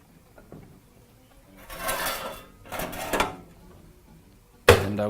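Soft scraping and shuffling of a baking dish of rosemary chicken and potatoes sliding into a home oven, ending in a sharp metallic clank as it settles or the door shuts.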